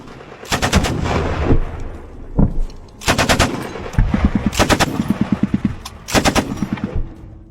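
Close, loud automatic gunfire in trench fighting, with bursts of rapid shots and heavy single blasts from weapons and grenades arriving in three or four violent clusters, separated by short lulls.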